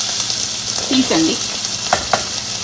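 Carrots and other vegetables frying in oil in a pan give a steady, close sizzle with a few stirring scrapes and no talk.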